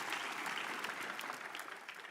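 A church congregation bursts into sustained applause, a dense crowd of clapping hands that stays fairly even for a couple of seconds before thinning slightly.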